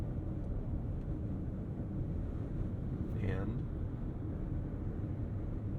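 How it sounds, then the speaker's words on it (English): Steady low road hum from the tires and a broad wash of wind rushing off the hood inside a Bentley Bentayga EWB cabin at cruising speed, quiet and constant, with a brief soft voice near the middle. "You hear a light hum from the tires, a stream of wind noise coming off the hood"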